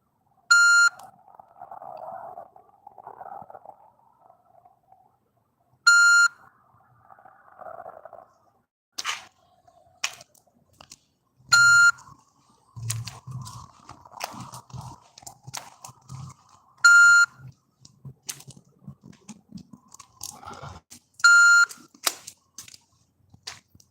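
Short electronic beeps repeat about every five seconds, loud and piercing, over quiet crunching and shuffling noises.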